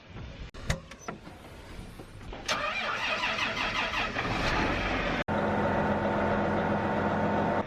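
A tractor engine cranks with a few sharp clicks and clunks, then catches and settles into a steady mid-pitched running drone heard close up, with a brief interruption before it runs on evenly.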